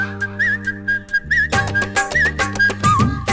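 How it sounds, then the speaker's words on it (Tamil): A melodic whistle rises over the beat of an upbeat Tamil kuthu film song, recurring in short bright phrases throughout against steady drums and instruments. "விசில் அடிக்குது"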